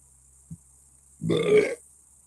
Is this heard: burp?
yes